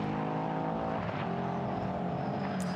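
GT4 race cars racing at the Nurburgring, several engines droning and revving together as the pack passes, a continuous layered roar with rising and falling pitch and no talking.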